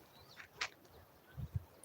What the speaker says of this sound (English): Oh, that's a big beautiful bird flying by.